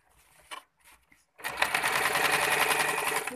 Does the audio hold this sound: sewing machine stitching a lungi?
yes